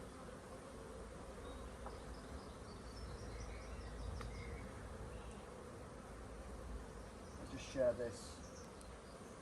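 Honey bees swarm an open hive during an inspection with added supers, their dense, steady buzzing humming close and continuous, with a faint voice briefly under the drone.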